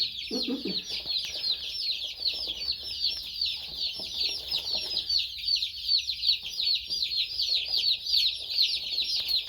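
A crowd of baby chicks cheeps continuously in a shrill, busy chorus in wood shavings, with a brief low cluck near the start and faint rustling beneath.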